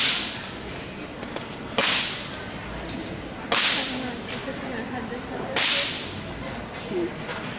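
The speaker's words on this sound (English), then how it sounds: "I'm going to have him actually following this whip around." A whip cracks around a colt during horse training, with four sharp, loud cracks spaced roughly two seconds apart over a quiet outdoor background.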